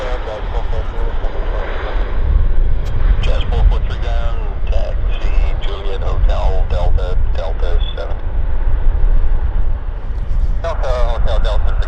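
A Turkish Airlines airliner arriving at Vancouver airport produces a loud, steady engine roar, with air traffic control radio chatter and a talking voice layered over the rumble.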